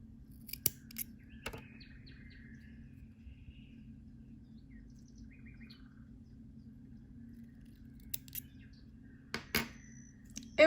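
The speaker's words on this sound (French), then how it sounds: "vous pouvez couper à ras en prenant bien que les deux fils" Small scissors snip crochet threads right next to a button: a few sharp, close metallic clicks spaced apart over a quiet background.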